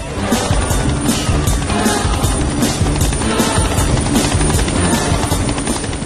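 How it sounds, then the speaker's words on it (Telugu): Loud, steady helicopter rotor noise, a continuous rhythmic thudding with broadband roar throughout, close and constant, no voices. "helicopter sound"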